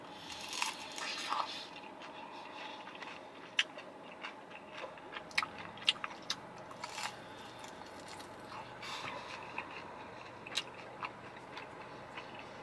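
Someone bites into and chews pineapple pie. Close, crunchy bites and moist chewing come in irregular clicks throughout, with no one talking.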